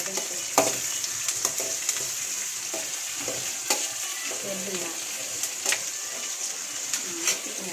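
Spices being tempered in a pan, a constant hiss of oil frying with soft stirring scrapes and small pops, plus a few faint bird calls behind it.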